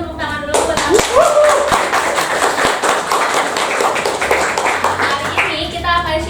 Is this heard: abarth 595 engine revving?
no